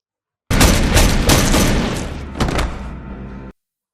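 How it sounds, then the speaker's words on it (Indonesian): Loud gunfire in a film cracks out as a rapid burst of shots lasting about three seconds, close and booming, then cuts off abruptly. "Sandin berhasil menembak manusia bertopeng ini"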